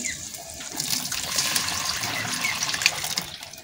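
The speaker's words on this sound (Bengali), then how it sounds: "এখন আমি সিদ্ধ করা মসুর ডাল এতে দিয়ে দিচ্ছি।" Boiled masoor lentils poured into a pan for a raw-mango dal, a soft continuous liquid splash and gush lasting a few seconds, fairly quiet and close.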